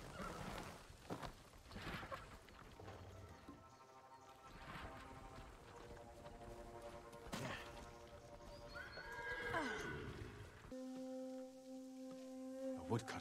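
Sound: horses neighing and hooves in video game Ghost of Tsushima

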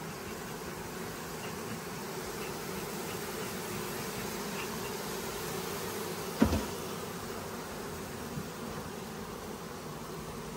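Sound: honey bees buzzing around beehive during honey harvest

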